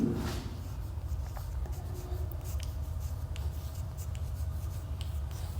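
Pen or chalk writing out the distance formula, scratchy strokes and taps in a steady run, close and quiet over a low hum.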